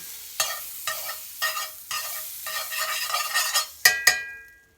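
Butter sizzling and spitting in a hot frying pan for sourdough pancakes, a steady crackle broken by a few brief pauses and ending in two sharper bursts, close and fairly loud with no voices.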